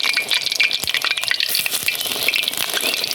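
Battered eggplant fritters (beguni) deep-frying in hot oil make a dense, loud, continuous crackling sizzle, with occasional clinks and stirring scrapes and no voices.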